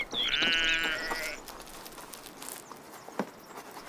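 Sheep bleat once in a grazing herd on open pasture among oak trees, a wavering, fairly close call lasting about a second, followed by quiet outdoor ambience with faint rustles.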